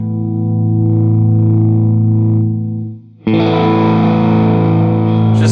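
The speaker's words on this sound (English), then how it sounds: "I can go from a nice clean sound to a beautiful overdriven sound." A Laney LA-Studio amplifier plays a sustained electric guitar chord, cleaner at first. After a brief dip it returns as a louder, brighter, fuzzy overdriven tone that rings on without any talk.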